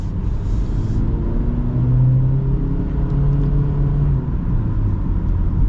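A 2024 Honda HR-V Sport crossover accelerates at full throttle, its engine droning loud and close inside the cabin as the rising tone climbs and shifts through the pull.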